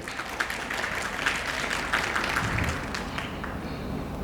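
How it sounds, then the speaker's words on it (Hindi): Studio audience applause at a televised Ramadan sehri show, a steady dense clapping that runs throughout at moderate level with no voices over it. "तो सलार नूर ने किस तरह से पढ़ा है, तालियां बताएंगी।"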